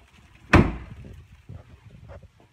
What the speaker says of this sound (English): Close the trunk.